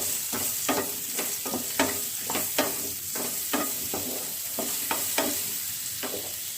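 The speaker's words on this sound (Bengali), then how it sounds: "এই 2-3 মিনিট মতো একটু ভেজে নিচ্ছি।" Chopped banana flower fries in a pan with a little salt and turmeric, sizzling steadily while a utensil stirs it in quick, repeated scrapes, about a dozen sharp strokes over the continuous hiss, nearby and with no talking.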